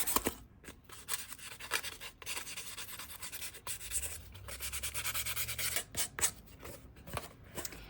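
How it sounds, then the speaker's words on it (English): Book page edges are roughed up by hand with repeated close scratchy rubbing and scraping strokes, uneven in rhythm, with brief pauses between bursts. "rough up the edges of these book pages a little bit, just so they're not such harsh cut lines."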